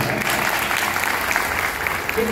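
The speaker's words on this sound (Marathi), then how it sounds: "सोहमसाठी एकदा टाळ्या" An audience at a devotional bhajan gathering claps steadily for a performer, a brief dense burst of applause close by, with little else heard.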